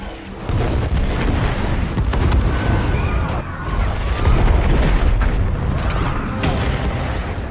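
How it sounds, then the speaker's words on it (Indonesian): Missiles bombarding a group of henchmen in an action film, a dense, loud barrage of booming explosions and rumbling blasts that rolls on continuously with crackling debris, no clear gaps. "dengan cepat ia pun mengirim beberapa rudal ke titik koordinat ponsel Marco, hingga berhasil membombardir semua anak buah Big Daddy yang ada di sana"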